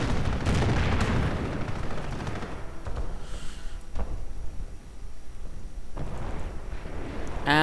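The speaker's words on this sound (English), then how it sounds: "And the riflemen set off a mine, I think." A landmine set off by riflemen in a video game battle, a heavy blast and rumbling booms mixed with rattling gunfire, loud at first and then continuing at a lower level.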